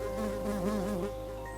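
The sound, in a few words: bee buzzing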